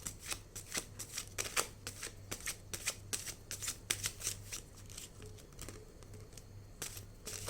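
Tarot cards shuffled by hand, a close, quiet run of rhythmic riffling slaps that steadily repeats and then trails off into softer handling.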